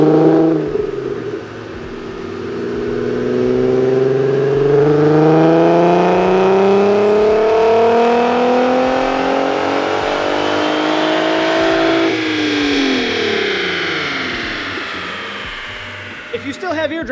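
A VW MK4 R32 fitted with a high-flow catalytic converter revs loudly, its engine note rising through a long sustained pull, holding high, then falling back toward idle. No one speaks during the run.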